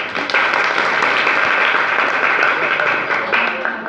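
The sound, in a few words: school audience applauding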